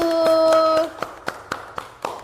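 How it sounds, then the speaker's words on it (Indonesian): A classroom group claps for a student group presentation: after a brief held voice, a handful of separate, evenly spaced claps ring out in a slow, sparse rhythm. "Beri tepuk tangan untuk kelompok 1"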